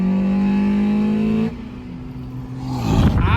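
A BMW M3 G80 holds a loud, steady high-rev engine note while driving in Miami, then the pitch drops as it lifts off before revving harshly again, close and dominant.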